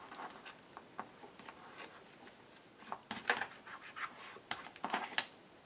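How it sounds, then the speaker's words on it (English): Scissors snipping around the edge of paper in a craft project, a quiet series of short crisp cuts and rustles at close range, irregular in rhythm, with no talk. "Cut around the edge of that."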